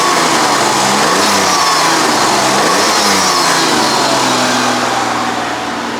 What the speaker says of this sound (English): When ignoring the high idle, the revs pick up really nicely.